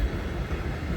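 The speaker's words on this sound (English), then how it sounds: "it is hard to not see this train approaching" The MBS 6 'Magda' shunter locomotive approaching on the heritage line at Haaksbergen in the Netherlands, a steady low rumble of engine and rolling wheels with no distinct clicks.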